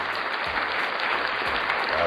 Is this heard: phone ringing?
no